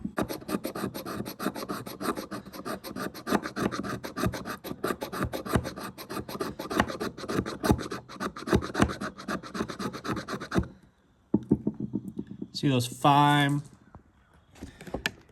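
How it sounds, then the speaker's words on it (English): Knife blade shaving fatwood into fine shavings: rapid rhythmic rasping scrapes, close and loud, running steadily then pausing, followed by a brief separate rub. "I could shave off some bigger chunks like that, some bigger ones like that"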